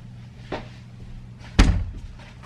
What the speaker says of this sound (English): I'm gonna close this door